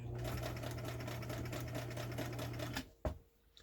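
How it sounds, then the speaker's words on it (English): A Brother 230 Galaxie sewing machine runs a straight stitch with a fast, even mechanical chatter up close, then stops abruptly and a single sharp click follows. "So, we've been sewing on straight stitch."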